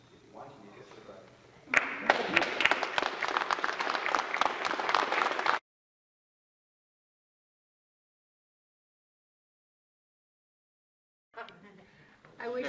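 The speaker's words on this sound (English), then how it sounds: "We can clap for them" Wedding guests clap for the newlyweds at the end of the ceremony, a burst of dense applause lasting a few seconds after brief talk, then silence before faint voices return.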